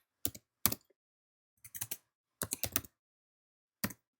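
Keys clack on a computer keyboard as a web address is typed: sparse, crisp taps in small irregular clusters separated by silent pauses, close and clear.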